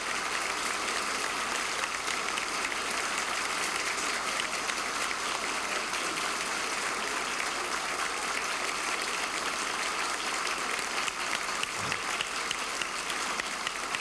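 Sustained applause from a church audience honoring a priest, dense and even throughout, a steady wash of many hands clapping with no voices over it.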